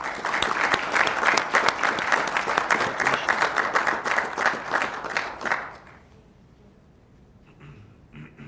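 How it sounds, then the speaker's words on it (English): A small audience at a park district board meeting gives a round of applause, crisp individual claps close by lasting about five seconds, then fading to quiet room tone with faint movement. "So please join me in a round of applause for Isak."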